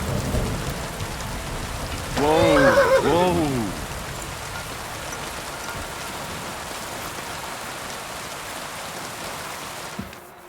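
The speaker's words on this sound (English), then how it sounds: "How could you put rain in the game like this and think it was good?" Steady heavy rain hisses through a stormy scene in Kingdom Come: Deliverance II while a deep thunder rumble swells near the start. A man briefly exclaims over the downpour.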